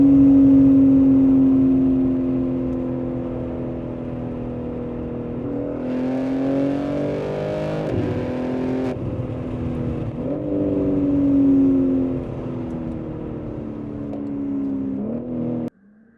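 A BMW M3 G80 or M2 G87 engine revs with a raspy exhaust note through an OPF-delete H-pipe or X-pipe exhaust, rising and falling in sustained pulls before cutting off abruptly at the end.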